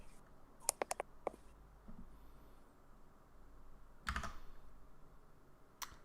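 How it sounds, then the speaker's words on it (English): Typing on a computer keyboard during a Netrunner card game store championship: a few sparse, crisp key clicks in short bursts against a quiet room hum, with longer gaps between them. "I see that you are typing things"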